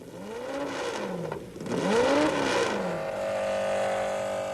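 A racing car's Coventry Climax V8 engine revs up and down in rising and falling whines, loud and close, then settles into a steady high drone.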